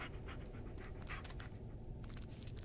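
Bullet, the dog from the Blair Witch video game, pants steadily and quietly for a few seconds against a continuous noisy background.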